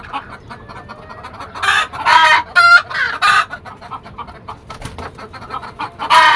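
Chickens on a rooftop farm cluck in repeated bursts, with one sharp call standing out, sounding fairly close against a soft outdoor background with no talking.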